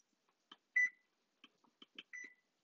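A microwave oven's timer gives a few short electronic beeps and button clicks as it is shut off. The sounds are faint and close, set against near silence.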